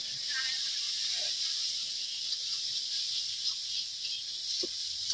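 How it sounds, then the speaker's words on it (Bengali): Fried fish being seasoned with spices in very hot oil, a village kitchen dish for guests, gives a steady high hiss that stays fairly faint, with a few small pops and crackles and no talking. "মাছটি ভাজা হয়ে গেছে এখন মশলা দিয়ে দিতেছি তেলটা গরম হয়েছে বেশি"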